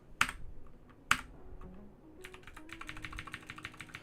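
Typing on a computer keyboard during web development coding, with two sharp isolated key clicks followed by a quick burst of rapid, close keystrokes, plus a faint murmur in the background.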